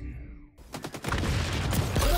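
Rapid gunfire bursts erupt loud and close in the online shooter XDefiant, a quick run of sharp shots that builds into a sustained, noisy firefight after a brief quiet moment.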